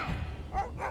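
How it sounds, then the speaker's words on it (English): Dogs barking in the video game Wasteland 3, two or three short yelping barks at a moderate distance amid game ambience. "Oh no, they've got dogs."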